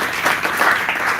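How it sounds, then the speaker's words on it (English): Brief dense applause from a gathered audience, a steady wash of many clapping hands, moderately loud and without speech. "give them a big round of applause"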